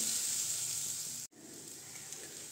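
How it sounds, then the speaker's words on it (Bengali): Potatoes sautéing in a pan for a Bengali aloo dhaniya dish, a steady close sizzle and hiss broken by a brief silent gap midway before the frying resumes. "আমি আলু ভালো করে একটু কষিয়ে নিচ্ছি"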